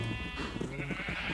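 A Minecraft sheep gives a wavering bleat in the video game, moderately loud over a busy background of game sounds, with faint talk mixed in.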